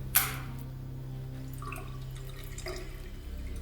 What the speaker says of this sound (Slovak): proste tečie tu voda